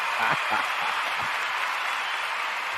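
A few sharp claps stand out at the start against a constant noisy background, then fade into a steady wash of sound.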